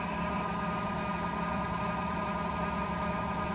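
Milling machine switched into low gear for reaming holes in a sine vise, running with a steady, even mechanical hum and vibration from start to finish, with no talking.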